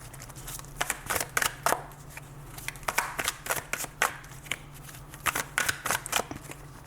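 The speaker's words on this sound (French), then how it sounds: "Je vais recouvrir quand même quelques petites cartes pour vous." Tarot cards are handled and laid out during a reading, producing repeated crisp flicks, shuffles and slaps of card on a table in quick irregular bursts, close and clear.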